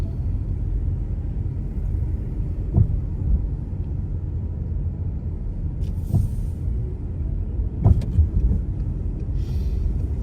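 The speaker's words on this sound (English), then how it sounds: "a lot of cars coming from the national park area" Steady low road rumble of car traffic heard from inside a moving vehicle while driving to Gatlinburg on New Year's Day, with a few faint passing thumps; continuous and even, no talking.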